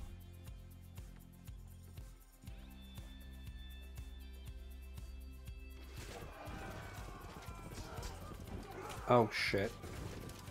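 Rhythmic hoofbeats of barbarian horsemen galloping in Civilization 5, repeating clip-clop over game music, followed by clatter and a neigh-like cry near the end, with a voice cursing over it.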